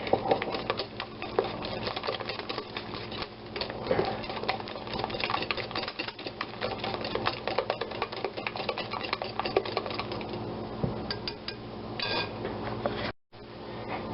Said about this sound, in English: just whisk those eggs and sugar together until it's good and foamy